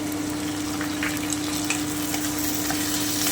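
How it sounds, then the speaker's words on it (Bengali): Tomato and cashews fry in a pan as the base for egg curry, a dense steady sizzle with faint stirring clicks and a constant hum underneath, close up with nobody speaking. "ভালো করে একটু ভেজে নেবো তিন থেকে চার মিনিট"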